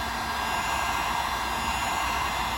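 A heat gun blows steadily on a plastic rear bumper cover before a dent is popped out. The hot-air roar is close, continuous and even throughout, with no talk over it.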